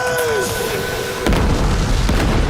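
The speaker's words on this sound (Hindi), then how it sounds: "मेहमत अपनी सारी तोपों से शहर पर हमले किया करता था" A deep cannon blast from a siege bombardment of a city booms in at mid-clip, following a stretch of tonal music, with a loud low rumble rolling on to the end.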